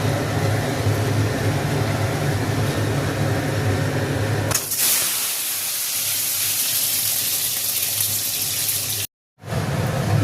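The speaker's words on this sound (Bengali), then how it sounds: "এবার ডিম আর আলুটা একটু ভেজে নেব" Eggs and potatoes fry in oil in a wok for a potato and egg kosha. A steady, close hiss of frying changes character partway through and drops out for a moment near the end.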